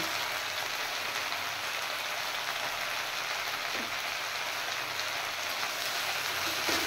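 Cut kolmi greens (water spinach) with turmeric and salt frying in a pan, a steady, even crackling sizzle that holds at a constant level throughout.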